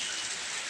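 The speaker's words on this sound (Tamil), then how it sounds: "நல்ல மழை, வெளியே இறங்கவே முடியாத மாதிரி இருக்குது." Heavy midday rain pouring steadily outdoors, a dense, loud, continuous hiss with no break.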